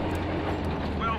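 Train in the Battlefield V video game, a dense low rumble with rolling mechanical rattle that stays steady and close throughout the short stretch of sound, with a voice faintly present underneath.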